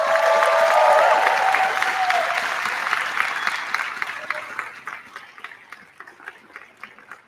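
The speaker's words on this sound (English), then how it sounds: "Y'all can keep the applause going." A convention audience at a political LGBTQ+ kickoff event applauds, a loud sustained roar of many hands with cheering voices, gradually thinning until only scattered individual claps remain near the end.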